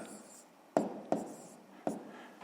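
Numbers written by hand for column addition, a few sharp taps and short scratches of pen on paper at uneven intervals over a faint room hum, close and quiet with no speech.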